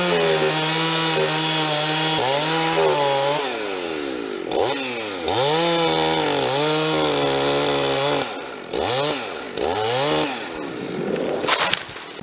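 Husqvarna 61 Rancher chainsaw fitted with a Husqvarna 272 cylinder cutting a tree, its engine revving up and down repeatedly as the chain bites and frees, loud and close with no talk.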